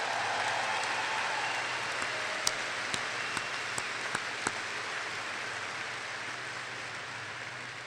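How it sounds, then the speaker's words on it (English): Steady applause from a crowd at a high school graduation ceremony, a broad, even wash of clapping lasting throughout with a few sharper individual claps standing out midway. "Let's give them another big round of applause for those going into the services."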